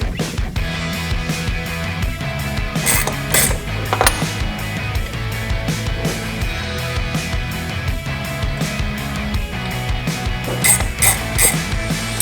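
A ratchet clicks in quick, repeated bursts while a throttle body for a Porsche 911 Turbo is taken apart, with close mechanical ratcheting and small metallic knocks and no talk.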